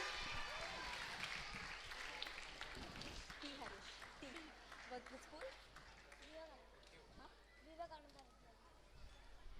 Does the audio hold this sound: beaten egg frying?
no